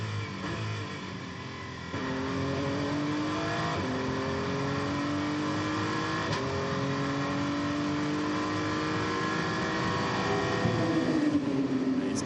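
The BMW number 46 race car drives through qualifying at the 2024 Qatar 1812 km, its engine a loud, near, steady whine that drops and climbs with gear shifts and revs.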